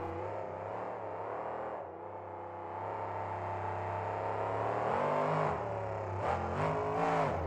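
A monster truck with a brand new, higher-revving engine roars steadily at an arena event in Atlanta, its loud, sustained tone rising and falling as it revs, with no talk over it.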